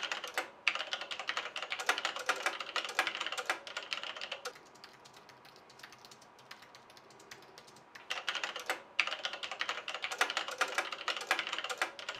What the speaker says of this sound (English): For me, it's the noise of the keyboard.